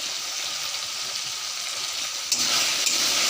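Ground spices with turmeric, salt and chopped tomato fry in a pan as they are stirred, giving a steady, close broadband sizzle with a brief louder scrape and clatter near the end.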